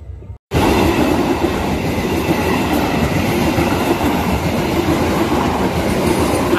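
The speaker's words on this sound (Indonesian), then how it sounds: "Kita tunggu lagi aja ya kereta apinya." Siantar Express train passing close by an unguarded level crossing, a loud continuous roar of wheels and rail with clickety-clack rhythm, starting abruptly after a brief quiet moment and holding steady throughout.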